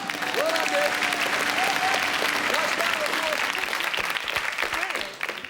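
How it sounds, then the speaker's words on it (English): A TV studio audience claps in a dense, sustained round of applause that fades toward the end, while someone talks over it. "A nice round of applause."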